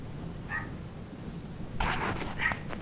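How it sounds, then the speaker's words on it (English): Dog barking indoors in the background, a short faint bark followed by a couple of louder yips a moment later, over a quiet room hum. "My dog's barking."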